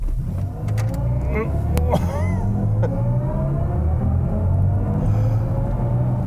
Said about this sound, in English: So let's put it into sport mode, hit the boost paddle here on the steering wheel, and here we go.